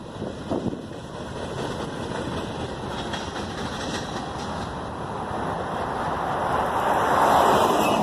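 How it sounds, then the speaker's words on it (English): Union Pacific 7434, a new GE GEVO locomotive with BC Rail power, leads a northbound manifest freight train past Magnolia, Texas, a steady rumble that swells and grows louder as the train draws near, with no talk. "I just saw 7434 new GEVO"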